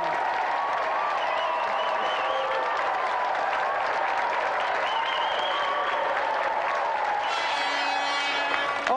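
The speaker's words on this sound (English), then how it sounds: "So let's give another round of applause for Thomas and Christopher Celestine and Vic" A television game show studio audience claps steadily and densely throughout, with some faint cheering and a brief tone near the end.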